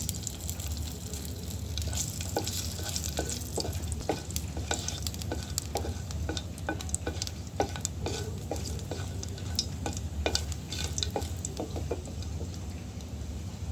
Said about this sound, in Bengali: তেল গরম হয়ে গেলে ফোড়নে দিয়ে দেব কালো জিরা, দিয়ে দিলাম কালো জিরা, দিয়ে দিলাম শুকনা মরিচ